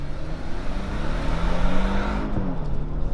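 A 2020 Hyundai Palisade Limited AWD drives a mountain road, its engine a smooth, muffled hum inside the cabin that rises slightly in pitch and holds steady, with no talk.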